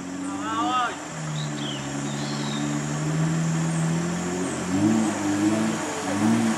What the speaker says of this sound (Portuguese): Sim, falhou o motor